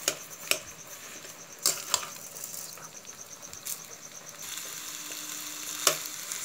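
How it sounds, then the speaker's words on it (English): A sugar mixture with cardamom fries and is stirred in a pan. It gives a steady quiet sizzle, with occasional louder scrapes and clinks from the stirring. "now fry it for half an hour like this until it turns its color into completely brown"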